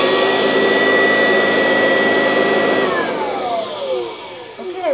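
A Kirby Classic vacuum cleaner runs with its bag hose kinked, giving a loud, steady motor whine that holds close and constant, then winds down with falling tones near the end.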